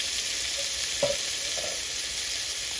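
Hilsa fish paturi wrapped in bottle gourd leaves cooking over heat in a covered pan, giving a steady even hiss of frying with one brief soft knock partway through, with no voices.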